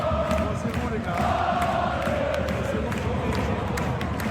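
Brest football supporters chanting in a stadium during a match against PSG, a loud, continuous roar of massed voices with a droning sung tone, heard from within the crowd.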